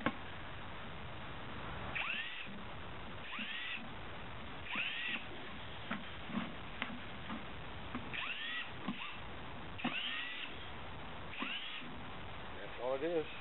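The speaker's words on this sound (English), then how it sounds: "All it is, drilling some drainage holes." A handheld power drill bores drainage holes in a plastic bin, its whine rising in short repeated bursts with pauses between, close and fairly loud under a steady background hum.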